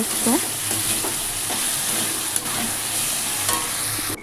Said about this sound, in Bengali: একটু ভাজা হয়ে গেলে তার মধ্যে দেব জিরে আর ধনে গুঁড়ো দিয়ে কষাবো।